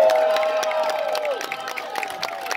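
Audience at a drag show by a Beyonce impersonator in downtown Los Angeles: crowd cheering and clapping, with whoops, applause rippling through a lively room, loud at first then easing slightly.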